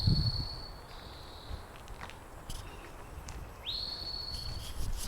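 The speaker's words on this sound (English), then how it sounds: "Interesting bird sound, whatever type of bird that is." Two rising whistled bird calls ring out clearly, one early and one later, over a steady outdoor background hiss.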